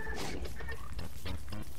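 Pig in the Don't Starve video game grunts and oinks in a few rough, close bursts, fairly loud against a low background rumble.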